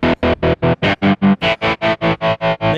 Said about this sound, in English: So what we hear is a square wave that can be morphed to a sinus wave,